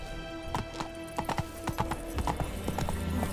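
Hooves clip-clop in a quick galloping rhythm as the horse Roach runs in The Witcher 3, steady and fairly close, with a brief whinny and no talking.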